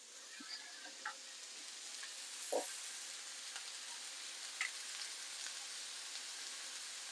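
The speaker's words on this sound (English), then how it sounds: "I'm just going to crush the cloves of garlic and put them straight in as well." Crushed fresh garlic cloves go into a pan for curried chicken rice, giving a faint, steady, hissing sizzle with a few soft taps and clicks from stirring, no talk.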